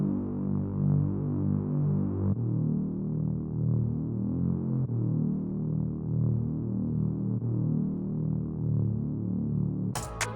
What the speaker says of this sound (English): I got a bass from Kavi's R&B drum kit, and it sounds like this